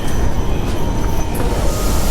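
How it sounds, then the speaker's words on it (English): Inside a crowded commuter train in Japan near Shibuya, a loud, continuous rumble and rattle of wheels on rails fills the carriage, steady and close. "Trains are packed."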